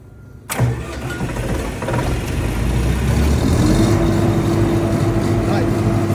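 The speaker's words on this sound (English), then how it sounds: "Now it's now telling you that the generator is running" A Tech Africa generator cranks and catches after a silent pause, then settles into a steady, loud mid-pitched running drone that builds slightly and holds for several seconds, with no voice over it.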